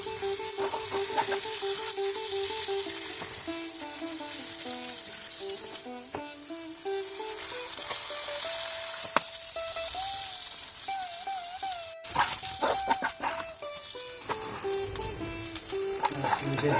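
Chicken fries in hot oil in a home kitchen, a steady, loud sizzle and crackle running throughout with occasional stirring scrapes, and no talking.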